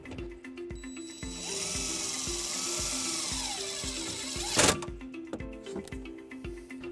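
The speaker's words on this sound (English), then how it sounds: "using our provided self-tapping screw and a 1/4" socket, we'll ground it into place" A power driver runs a self-tapping screw into metal with a 1/4" socket while fitting a trailer wiring harness to a 2016-2023 Mazda CX-9, giving a steady close whirring drone broken by a sharp burst as the screw seats.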